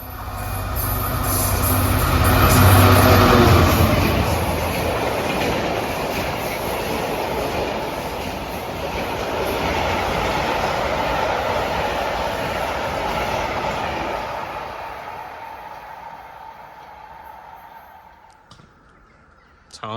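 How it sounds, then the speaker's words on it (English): A Class 66 diesel locomotive hauling a clay train of wagons passes close and loud, with a rumbling engine and rolling wheels and wagons, then fades away to quiet at the end. "the next train will be the clay train with a class 66."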